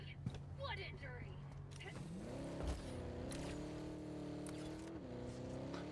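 A car drives through jungle terrain in a shooter video game, its engine rising in pitch and holding a steady drone with bumps and thuds, joined by gunfire and talk.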